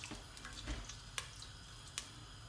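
Quiet, steady sizzling of fermented and salted fish frying in palm oil, with a few faint ticks and clicks over the hiss.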